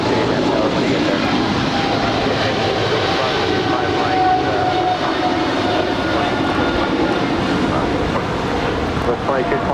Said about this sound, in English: That right there is Southwest Airlines flight 2220 coming in from Albuquerque